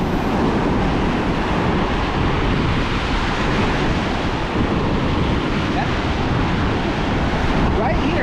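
Ocean waves wash steadily onto the sand in the surf at New Smyrna Beach, a continuous loud roar of breaking water mixed with gusty wind buffeting the microphone, with no pauses.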